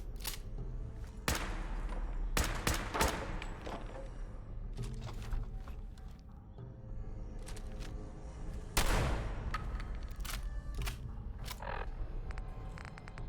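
Rifle gunfire in Fallout 4, a run of sharp single shots spaced irregularly across the stretch, some louder and closer, with a heavier blast partway through over a low game ambience.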